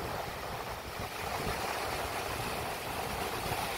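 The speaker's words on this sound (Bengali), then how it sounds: "সমুদ্রের গর্জন শোনা যাচ্ছে।" Rough sea surf at Rock Beach in Pondicherry on a moonlit night, heard as a continuous loud roaring wash of waves with no clear breaks and no voices.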